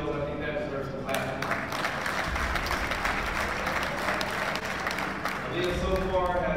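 An audience claps for a high school athlete at a recognition event, steady sustained applause lasting several seconds with a voice speaking over it.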